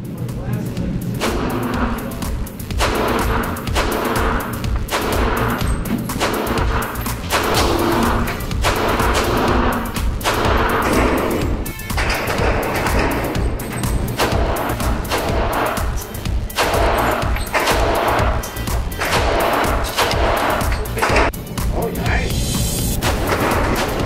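A Ruger LC380 pistol fires a long string of close, sharp gunshots in quick succession at an outdoor range, each crack followed by a short thud, with a voice talking over parts of it.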